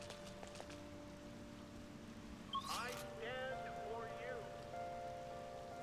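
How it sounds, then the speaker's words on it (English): Steady rain patters throughout in the video game Persona 5, with a soft tonal hum underneath and a few brief chirpy electronic sounds midway. "It's raining, so Chihaya won't be there."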